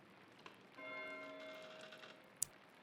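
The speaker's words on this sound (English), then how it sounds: "Why is Matthew ringing the bell?" A bell rings in Pentiment, a faint sustained tone that swells briefly and fades, followed by a sharp click near the end.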